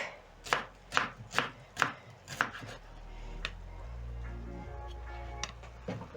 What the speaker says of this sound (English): Finish off chopping my leek.